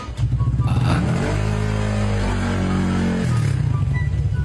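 A motorcycle engine revs up loud and close, rising to a sustained high-revving drone that then drops back to a chugging idle.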